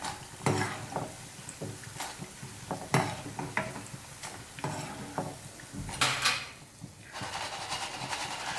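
Paal paniyaram fried in hot oil in a kitchen, heard as a steady sizzle under clinks and scrapes of a ladle against the pan, with intermittent stirring knocks.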